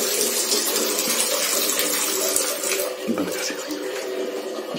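Fresh turmeric roots with some ginger washing under steadily running water, a loud continuous gush that fills the whole stretch, close up.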